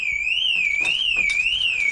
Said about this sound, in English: So we can open the door, alarms preset on here.